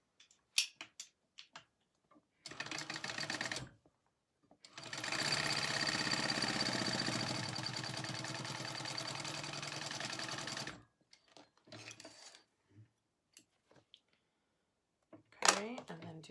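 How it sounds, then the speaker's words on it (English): A sewing machine runs a steady stitching burst of about six seconds along a 1/4 inch seam on a handmade wallet, with quiet handling clicks and someone speaking before and after. "we're going to sew that at a 1/4 inch seam allowance"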